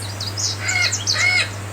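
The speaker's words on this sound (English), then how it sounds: "I hear birds." Birds chirp and tweet outdoors in a rapid run of high calls and trills, fairly clear and close, with no voices.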